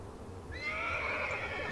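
A horse in the video game The Battle for Middle-earth, among Rohan cavalry, lets out one clear, drawn-out whinny that rises sharply, then holds over a steady low background.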